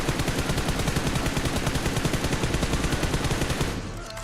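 A video game automatic gun fitted with a stabilizing grip fires a sustained, rapid, evenly spaced burst of loud shots that stops abruptly near the end.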